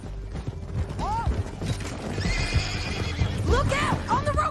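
In the video game Red Dead Redemption 2, horses whinny twice with rising and falling neighs over steady galloping hooves and a rumble of action, loud and close, with voices heard alongside.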